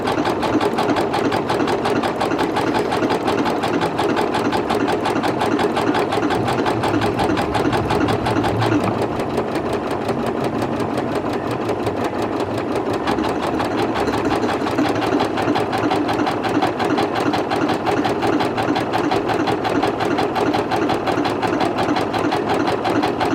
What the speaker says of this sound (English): And it stitches backwards.